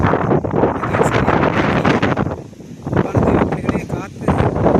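Strong gusty wind buffets the microphone in loud, continuous roaring surges with a brief lull near the middle.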